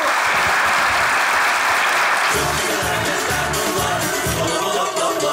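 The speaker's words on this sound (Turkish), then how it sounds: "Alkışlar o zaman. Alkışlarla iyi seyirler" Studio audience applause for a comedy sketch show, loud and continuous, with a rhythmic musical beat joining partway through beneath the clapping.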